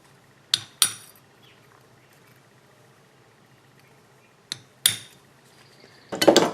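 A small pointed tool tapped against an oilfield clutch lining to knock the riveted parts apart, giving two pairs of sharp metallic taps separated by quiet, then a brief scraping clatter at the end.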